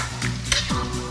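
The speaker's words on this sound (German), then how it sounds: "Fisch immer wieder mit dieser tollen braunen Butter so ein bisschen übergießen." Redfish fillet in a hot pan sizzles and spits as brown butter with panko is spooned over it again and again, bursts of crackling frying and stirring close up, no talk.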